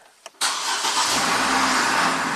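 A 2005 GMC Canyon pickup engine with a P0601 fault cranks briefly, then catches and settles into a steady, loud running rumble nearby.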